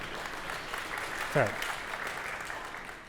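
Scattered audience applause at a technology conference talk rises briefly and then fades as the speaker carries on talking over it.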